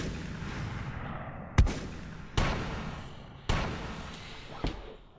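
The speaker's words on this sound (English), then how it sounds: "Those gunshots are for me." Gunshots in an action film: four sharp, loud bangs spaced irregularly, each with a short decaying tail, over a busy rumbling background with no talk.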